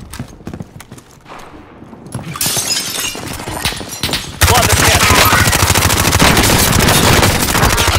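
Call of Duty Warzone gunfire on Rebirth Island, rapid automatic shots crackling over a busy game soundscape, building to a loud, continuous close barrage with brief voice chatter underneath.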